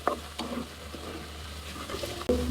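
Chopped garlic and chicken pieces hit hot oil in a kadai, giving soft sizzling with a few sharp stirring scrapes and clacks, fairly quiet and close.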